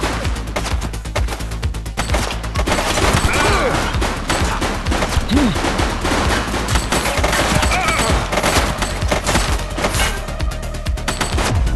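Sustained gunfire in the police shooter game The Precincts, a dense fusillade of shots and impacts running throughout at high level with game sound layered in, no clear talk.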